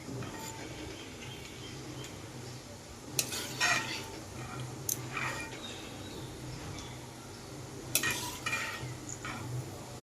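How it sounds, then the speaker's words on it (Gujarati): Cashews fry in hot oil under a steady close sizzle, with a few louder bursts of stirring and scraping in the pan and no speech. "તો કાજુ સરસ ક્રિસ્પી થઈ ગયા છે, તળાઈ ગયા છે."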